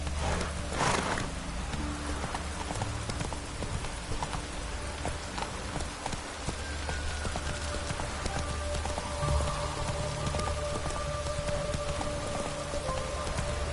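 Rain in the video game The Witcher 3 falls as a steady, moderate patter, with horse hooves clip-clopping beneath it throughout.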